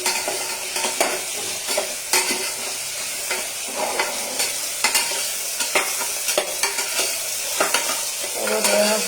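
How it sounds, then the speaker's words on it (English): Moringa drumsticks fry in Amul ghee in a home kitchen, with a continuous close sizzle and frequent clinks and scrapes of a spoon stirring the pan. "this moringa drumstick. We have to fry this."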